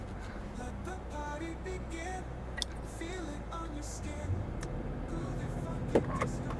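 A 2025 Toyota 4Runner TRD Off-Road accelerates from a standstill in sport mode, its engine a steady low drone with rising tones as it pulls through the gears, heard from inside the cabin with a voice faintly under it.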